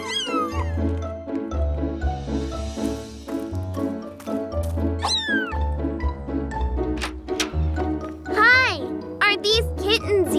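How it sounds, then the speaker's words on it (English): Cartoon cat meowing in a kids' animated show, several bright rising and falling meows scattered over background music, with a voice speaking in between. "Morphle, morph into a cat again."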